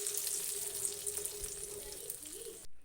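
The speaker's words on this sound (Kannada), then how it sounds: "ಈಗ ಒಗ್ಗರಣೆ ರೆಡಿಯಾಗಿರೋ ಒಗ್ಗರಣೆನ ಇದಕ್ಕೆ ಹಾಕ್ಕೋತಾ ಇದ್ದೀನಿ." Hot tempering is poured into tomato gojju for a tomato pickle and sizzles steadily in a close, bright hiss, with a brief bubbling swell near the end before it cuts off.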